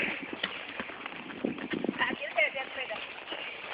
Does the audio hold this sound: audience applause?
no